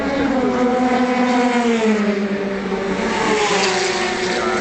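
A Ferrari race car at the 2013 24 Hours of Le Mans screams past with a loud, high engine note that slides downward as it goes by, close and sustained, with no talk.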